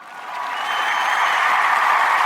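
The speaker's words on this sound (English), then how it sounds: "We ain't doing the golf clap. We giving the big clap" Big, enthusiastic audience applause at a sports podcast taping, a dense wash of clapping that swells from moderate to loud and holds steady throughout, with no talk over it.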